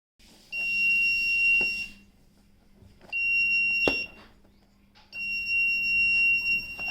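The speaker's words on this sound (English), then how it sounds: "the alarm will beep" A high electronic alarm from a magnetic door sensor beeps in three sustained bursts of about a second and a half each, separated by short gaps, clear and close.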